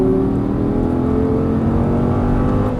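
An Audi R8 supercar accelerating at full throttle on a racing track at Exotic Racing, a loud, steady, close engine roar with a rising whine and no voices.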